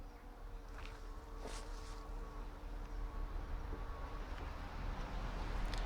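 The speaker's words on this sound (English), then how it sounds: "See, there are a lot of bees in this nuke box." Steady dense buzzing of many honey bees close by inside a nuc box, a continuous hum with no talking.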